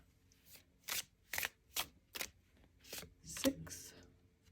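A deck of tarot cards is shuffled in a series of crisp riffling bursts, about six quick rustles in an even rhythm, soft and close.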